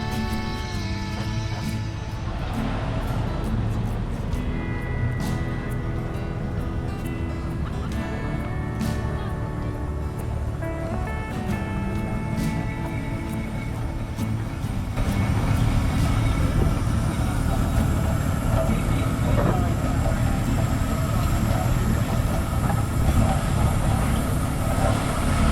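A steam traction engine's flywheel belt-driving a wood saw at a steam show, a continuous loud mechanical rumble with a steady drone that grows heavier and denser about halfway through, with faint tapping over it.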